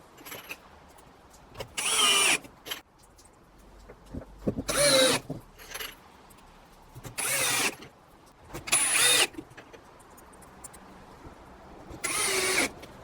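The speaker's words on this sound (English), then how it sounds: "So let's screw this down." A power drill drives screws down into a plastic workbench top in five short bursts of about a second each, with quiet gaps between them and no voices.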